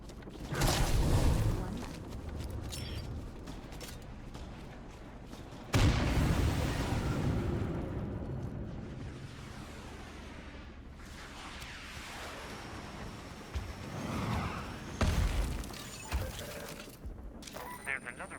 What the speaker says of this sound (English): That's one more airstrike from our pal Cleo.